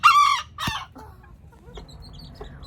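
Chickens clucking close by in a farm coop with a mother hen and her chicks, loud harmonic calls at first followed by softer scattered clucks and chirps.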